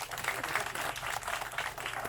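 Faint, scattered clapping from a crowd at a Balinese Calonarang comedic performance, a light patter of hands heard from a distance for a couple of seconds.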